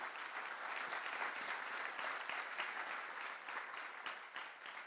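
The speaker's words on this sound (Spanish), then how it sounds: "quiero que le regalen por favor un aplauso a nuestros panelistas" An audience at a panel discussion applauds steadily, a dense continuous patter of clapping hands that holds at an even level throughout.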